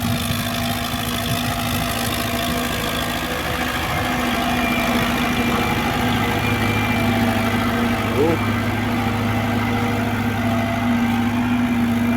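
An MTZ-82 tractor pulling a ripper through clay soil labors steadily under load, a constant low rumbling drone with a knocking edge that runs unbroken throughout.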